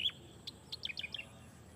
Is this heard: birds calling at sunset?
yes